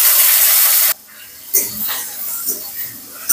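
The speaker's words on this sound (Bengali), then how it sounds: "লঙ্কাগুলো ভাজা হচ্ছে, বুঝতে পারছো?" Green chillies drop into a hot iron wok over a black cumin tempering and give a loud, hissing sizzle for about a second. It cuts away sharply, leaving quieter, intermittent spits and crackles.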